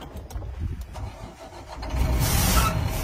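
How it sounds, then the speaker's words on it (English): A large six-door monster pickup truck engine cranks and catches after a few seconds of quiet clicking, then settles into a loud, rumbling idle up close. "basically when you turn the car on"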